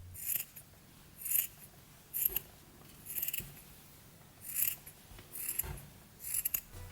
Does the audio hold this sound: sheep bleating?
no